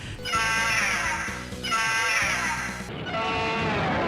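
Harsh crow-like bird cries in the Fei Long stage of Ultra Street Fighter II, a video game, repeating loudly three times in succession over continuous game audio.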